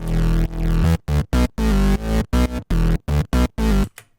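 Heavy bass notes chopped by hard sidechain pumping, cutting in and out in a choppy rhythm, loud and up front.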